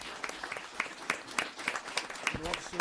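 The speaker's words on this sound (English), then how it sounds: "And I get a really nice round of applause for Detective Caprio, Officer Ewell," Scattered applause from an audience at a town board meeting, honoring police officers, with uneven claps rising and falling amid room noise and some voices.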